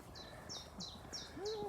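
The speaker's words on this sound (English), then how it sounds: "Bird song really loud out here." Bird song outdoors on a cloudy day near felled trees, with repeated short chirps and whistled calls at a steady rhythm, moderately faint against background ambience.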